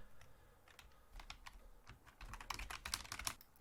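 A password is typed on a computer keyboard, a quick run of close, soft key taps that grows busier and slightly louder toward the end, with no talking.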